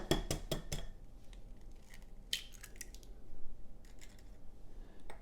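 Cookie dough with an egg gets mixed in a bowl, giving close, sharp clacks and scrapes in bursts with quiet gaps between them, and no voices.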